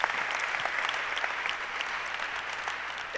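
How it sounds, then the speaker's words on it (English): A church congregation claps for a member standing among them, dense sustained applause from a crowd, even in level throughout, with no speaking over it. "Clap it up for her."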